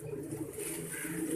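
Pigeons kept as high-flying birds in a loft, their soft low cooing continuous and close, layered over a steady background hum.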